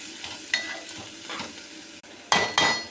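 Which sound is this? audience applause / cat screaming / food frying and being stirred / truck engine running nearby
food frying and being stirred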